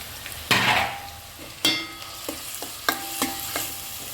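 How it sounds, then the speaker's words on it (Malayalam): Tomato, onion, ginger, green chilli and curry leaves hit hot oil for a homestyle mackerel curry, bursting into close, loud sizzling that swells and fades in several surges as a spoon scrapes and stirs the pan. "തക്കാളി, സബോള, ഇഞ്ചി, പച്ചമുളക്, കറിവേപ്പില ഇതൊക്കെ ഇടാൻ പോട്ടാ."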